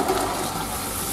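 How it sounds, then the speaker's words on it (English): Cold tap water rushing over drained beans being rinsed for a Castelnaudary cassoulet, a steady, close hiss of running water without pauses or voices. "Rinse with cold water."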